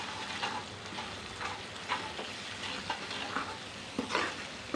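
Spoon stirring a spicy pav bhaji mixture with mustard seeds and masala in a hot pan, steady scraping strokes every second or so over a continuous sizzle, close and alone without talk.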